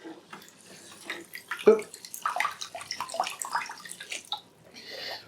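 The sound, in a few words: AeroGarden Harvest water pump pumping water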